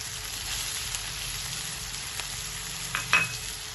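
Midin wild fern being stirred and fried with dried shrimp in a pan, a steady close sizzle running throughout with a few soft scrapes and clinks of the utensil near the end.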